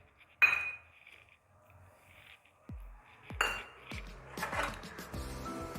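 Metal utensils clink against a bowl as two bowlfuls of sugar go into a homemade kokum syrup mixture, with a sharp clink near the start and a few more scattered light knocks and clatters toward the end.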